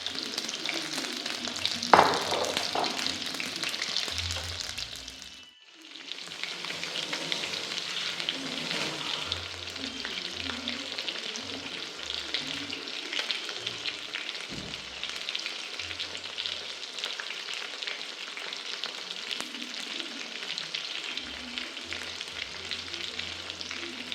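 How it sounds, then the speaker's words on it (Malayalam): Battered honey chicken pieces deep-frying in oil over a low flame, a dense continuous crackling sizzle that dips briefly as pieces are turned, then carries on steadily and close, no voices. "ഇത് ലോ ഫ്ലെയിമിൽ വേണം തിരിച്ചും മറിച്ചും ഇട്ട് വറുത്തെടുക്കാനായിട്ട്"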